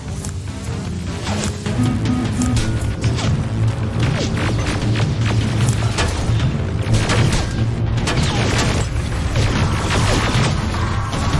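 Grenade explosions and heavy gunfire in the video game Terminator: Resistance, a dense continuous barrage of loud booms and crashes layered over a steady rumbling background.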